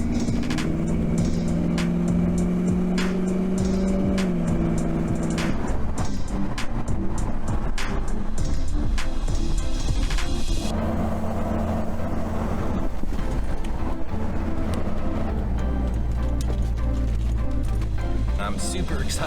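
2003 Land Rover Discovery 2 being driven, a steady engine and road drone with shifting pitch as it moves, heard from inside the cabin, with someone talking over it throughout.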